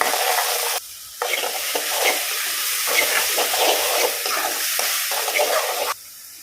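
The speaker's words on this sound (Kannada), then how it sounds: "ಹೈ ಫ್ಲೇಮಲ್ಲಿಟ್ಟು ಫ್ರೈ ಮಾಡ್ತಾ ಇದ್ದೇನೆ" Ground masala frying in a pan on high flame, a loud close sizzle with brisk stirring and scraping that drops away briefly twice.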